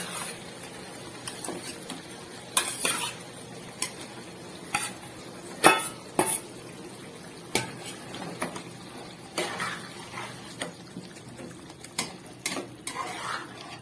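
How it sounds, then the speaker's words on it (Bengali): Paneer pieces go into a pan of boiling gravy and are stirred, with scattered scrapes and clinks of a utensil against the pan over a quiet simmer, no voices. "ঝোলটা ফুটে গেছে, এবার এর মধ্যে আমি পনিরগুলো দিয়ে দেবো"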